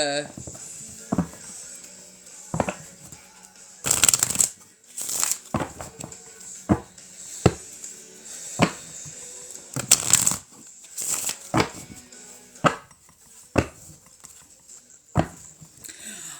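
Repeated soft rustling and flicking of tarot cards being shuffled, in irregular bursts with brief louder riffles, over a quiet background.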